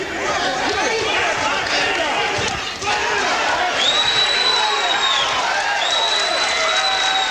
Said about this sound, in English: this partisan crowd of Chicagoans loving it